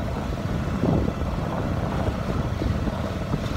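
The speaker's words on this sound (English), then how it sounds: "Need your main out, motor sailing in the headwind." A sailboat motor sailing into a headwind, its engine droning steadily under heavy wind rush buffeting the microphone, loud and continuous with no talking.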